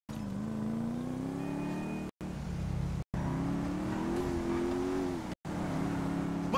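A powerful motorbike engine drones steadily in GTA 5, a steady mid-pitched hum that rises and falls slightly in pitch, with brief cutouts between stretches.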